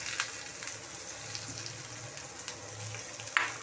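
Vegetables being lightly fried in a pan for a homemade Domino's-style pizza, a soft steady sizzle and crackle running throughout with no voices.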